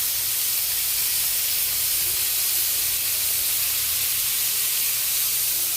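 Pork sizzling in a pan with oyster sauce for pork menudo, a loud, even, steam-like hiss that holds steady from start to finish.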